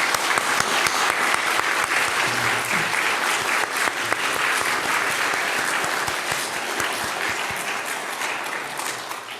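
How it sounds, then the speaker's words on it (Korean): Church congregation applause during a Sunday service, many hands clapping steadily at moderate volume, tapering off gradually toward the end. "격려하며 박수하겠습니다."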